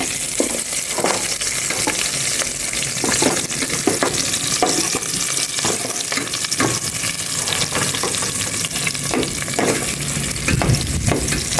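Onion sizzles and fries loudly and continuously in a hot pan, with scattered scraping and stirring clicks over the steady crackle and no talking.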